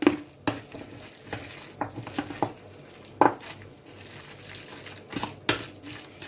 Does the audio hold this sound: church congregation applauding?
no